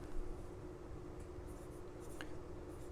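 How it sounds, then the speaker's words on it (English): A pen scratches briefly as someone writes the date on a bottle of Starbond CA glue. The scribble is quiet and faint over low background noise. "When you receive it, just write on it when you got it."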